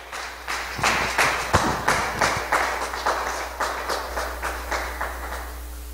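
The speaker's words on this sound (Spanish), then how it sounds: "Si le va a dar un aplauso, déselo bien fuerte." A church congregation claps in a steady, loose rhythm of sharp hand strikes that holds for several seconds at moderate loudness, with no voices over it.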